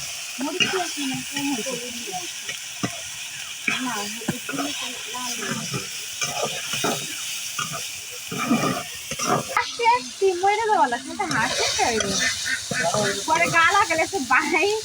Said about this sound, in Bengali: মোটামুটি একবারে ভাজা ভাজা হয়ে আসতেছে, তেল ছেড়ে দিছে